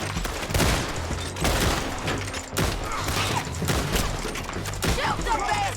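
Gunfire in Red Dead Redemption 2, a loud, dense run of shots and bursts with crashes over several seconds, mixed with shouting voices.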